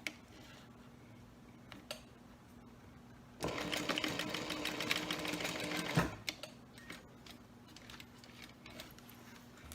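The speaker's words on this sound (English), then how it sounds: "So I'm just going to top stitch about 1/8 of an inch from this edge." A sewing machine top stitching a fabric zipper pouch about an eighth of an inch from the edge, a quiet ticking start then a steady fast whirring run of about three seconds, close with no talk.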